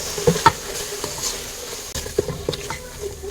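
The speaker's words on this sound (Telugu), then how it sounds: "వీటిని ఇప్పుడు బాగా కలుపుకుందాము." Chilli powder, coriander powder, garam masala and biryani masala being stirred in a pan for egg biryani. Close spoon scrapes and clinks sound at an uneven pace over a soft sizzle.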